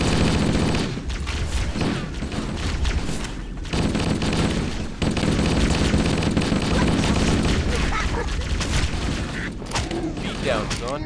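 Dense gunfire rages through a Halo video game battle, continuous loud bursts and booms filling the whole stretch while voices shout over the fighting.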